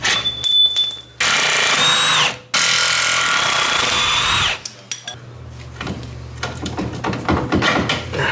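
A power tool whirs in two long loud bursts while removing a shock from a Polaris off-road vehicle, followed by clinks and rattling of tools and parts nearby.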